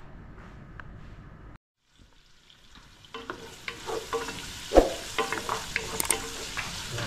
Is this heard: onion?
yes